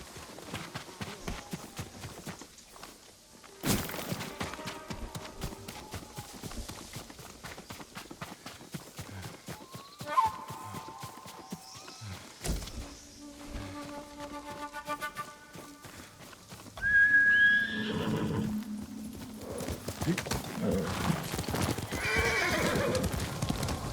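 Horse hooves clip-clop at a walk and then a run, with several whinnies and neighs, inside the Ghost of Tsushima video game, set amid quiet game ambience.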